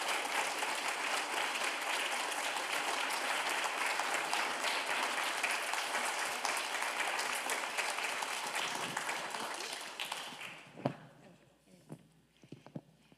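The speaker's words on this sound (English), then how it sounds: "I think you deserve another round of applause." Sustained applause from an audience fills the room, then thins out and fades, leaving a few scattered claps and shuffles at the end.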